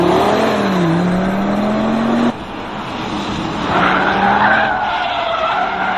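A 2023 Audi RS3 brakes hard on a race circuit, its tires squealing in a long, loud screech over the engine note, with the pitch shifting as the car scrubs speed.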